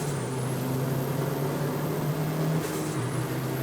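A Honda D16-powered car with an upgraded D-series gearbox pulls hard on the road, its engine droning at a steady pitch, climbing through revs, then dipping briefly at a shift before pulling again.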